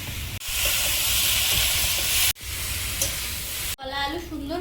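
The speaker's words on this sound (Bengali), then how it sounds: "বেগুন আলু আর শাকটা এবারে আস্তে আস্তে ধীরে সুস্থে ভাজবো" Eggplant, potato and greens sizzle steadily in a pan, a loud continuous hiss broken by two brief pauses, with a voice starting up near the end.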